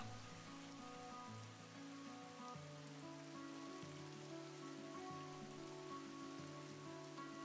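Steady rain from the RimWorld video game, a constant soft patter over low sustained musical tones, continuous and even for the whole stretch with no voices.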